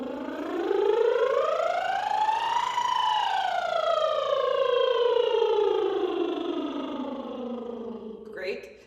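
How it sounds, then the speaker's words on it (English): A single voice does a buzzing lip trill, gliding smoothly up to a high peak, then slowly sliding back down before stopping. "Now we will do a lip trill with a pitch. So we'll do a siren."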